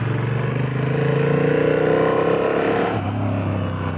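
Honda CB750 Hornet motorcycle engine running steadily with a low exhaust note, pitch climbing as the throttle opens and then dropping back near the end, close and loud with no talking.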